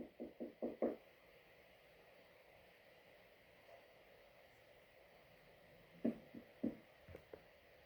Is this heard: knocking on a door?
yes